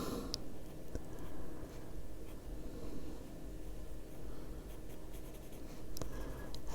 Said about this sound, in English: Since I have the pencil right here, I'm going to do it with it.